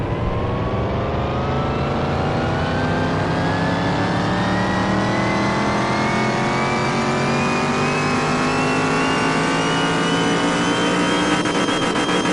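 A supercharged V8 engine with two carburetors and overhead valves revving in Car Mechanic Simulator 2021, one continuous loud climb in pitch held steadily for about twelve seconds, alone and close.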